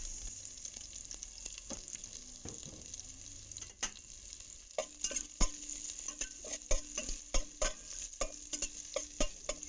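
Garlic and onion sautéing in a frying pan for a Filipino dinengdeng, a soft continuous sizzle broken by repeated close metal stirring scrapes and taps that grow busier toward the end.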